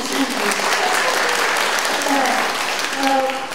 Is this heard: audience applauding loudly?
yes